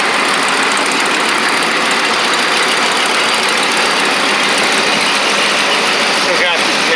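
A 1988 Chevy 30 truck's big V8 engine with a leaky manifold idles with a steady, loud, rough rumble throughout, close by and unbroken.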